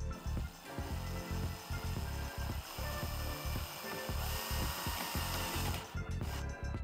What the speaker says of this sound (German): So, wir nehmen uns jetzt also unseren Akkubohrer, stecken unseren Adapter ein und schrauben los.